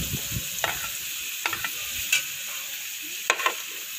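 Chopped bananas frying in ghee in a kadhai with semolina for banana halwa, a soft continuous sizzle broken by several sharp spatula scrapes and stirs, close by and without talk.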